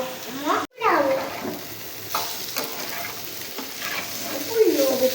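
Bitter gourd karela bhaji stir-fried in a pan, a loud close sizzle with repeated scraping strokes of the spatula and a brief sharp cutout near the start.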